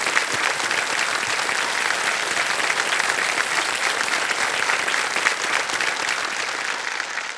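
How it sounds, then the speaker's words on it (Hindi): A studio audience on a televised quiz show bursts into loud, sustained applause, a dense steady wash of many hands clapping for over seven seconds without pause. "ये तालियां बज जाएं इनके लिए।"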